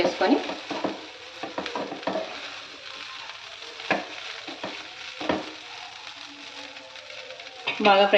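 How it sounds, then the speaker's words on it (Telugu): Tomato rice with chopped mint and coriander is stir-fried in a pan, a sizzling hiss broken by scraping and spatula knocks at irregular intervals, with a voice speaking over parts of it. "కొత్తిమీర పుదీనా వేసిన తర్వాత కూడా ఒక 2 నిమిషాలు ఇలా బాగా ఫ్రై"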